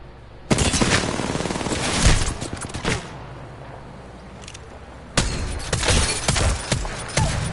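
Rapid automatic gunfire bursts in the battle royale game Apex Legends, loud and close, with a long quieter gap midway before another dense string of shots and impacts.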